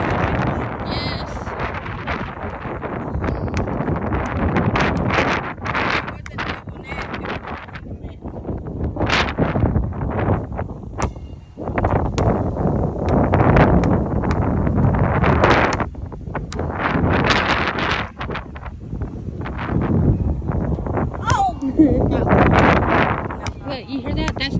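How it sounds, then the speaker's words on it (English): Strong gusting wind ahead of a severe Texas thunderstorm roars and buffets the microphone in heavy, uneven surges, loud and close, while people talk over it throughout. "Look, you hear that? That's the wind coming."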